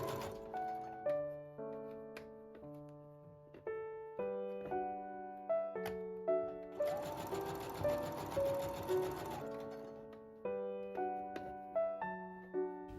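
A sewing machine stitches a midi skirt, running steadily in the middle stretch beneath soft background music that carries a simple melody throughout.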